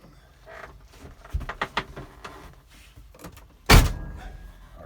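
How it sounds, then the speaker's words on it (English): A car door on a 1968 Thunderbird is shut, a single solid thump near the end after some light handling and rustling, close and fairly loud, with no talk. "I'm going to go ahead and close the door."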